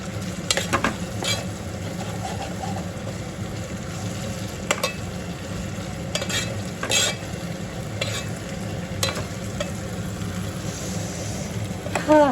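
Brinjal frying in a pan, a continuous loud sizzle with a clatter of spoon strokes stirring it through the whole stretch.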